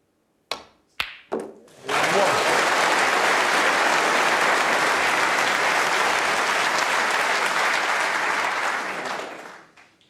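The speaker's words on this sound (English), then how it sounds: "a bit of noise in the crowd" A crowd at the World Snooker Championship semi-final bursts into sustained, loud applause after a big shot. A few sharp knocks come first, then clapping rises quickly, holds steady for several seconds and fades away.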